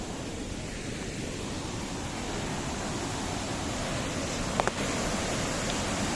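Steady broadband rush of water pouring at Devi's Fall waterfall in Nepal, a constant near roar with no pauses and only a brief faint click near the end.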